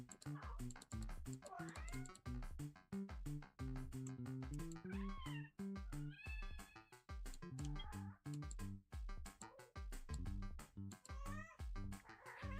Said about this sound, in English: Why is our cat green?